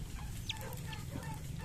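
Faint high peeps from a chick still hatching out of its egg, a couple of short calls over a low background hum, recorded outdoors near a hen's nest.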